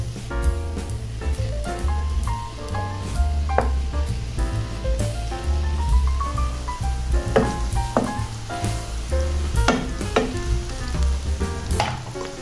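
Mushrooms frying in a little butter hiss steadily and fairly loudly throughout, with frequent crackling pops and occasional spatula scrapes against the pan.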